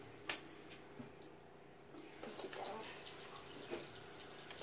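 A bathroom tap runs water for wetting hair before styling, starting after a short pause with a few splashes and then flowing steadily, quiet and close.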